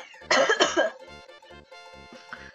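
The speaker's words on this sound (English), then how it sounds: "Sorry for all these gross coughs." A couple of harsh coughs close up, followed by quieter, tonal video game sounds with a repeating pulsing beat.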